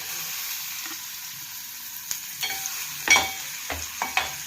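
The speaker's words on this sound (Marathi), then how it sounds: "तेल गरम होऊन द्या पहिले प्रथम आपण कांदा टाकू" Chopped onion fries in hot oil in a pan for a village-style egg dish, a faint steady sizzle broken by several clattering stirs and scrapes.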